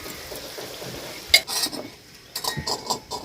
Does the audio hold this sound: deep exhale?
no